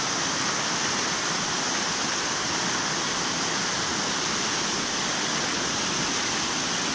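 Floodwater after heavy rain in Medinipur, West Bengal, where houses around a neighbourhood stand submerged, gives off a steady, loud, broadband rushing roar like a stream or weir, unbroken for the whole span with no voices.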